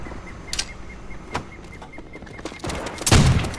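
Shotgun fire in a video game: three sharp, booming blasts spaced irregularly, the last the loudest and fullest, over a low background of game ambience.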